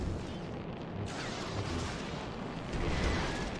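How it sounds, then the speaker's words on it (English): A missile explodes in the Lego Star Wars Skywalker Saga game, a deep rumbling blast that swells and rolls on, sustained and fairly loud with no talking over it. "That's a missile."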